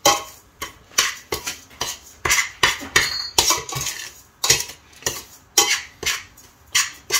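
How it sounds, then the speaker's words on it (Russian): A spoon clinks and scrapes repeatedly against a bowl, stirring sugar for lemonade in quick, irregular strokes, close up, with no voices. "Берем ложку и размешиваем."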